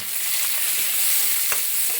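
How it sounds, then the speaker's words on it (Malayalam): Small onions (shallots) sauté in hot oil for a Kerala-style okra curry, giving a close, steady, bright sizzling hiss with one small pop. "ഇനി വാട്ടിയെടുക്കുന്നു, ചെറുതായിട്ട് വാട്ടിയെടുക്കുന്നു."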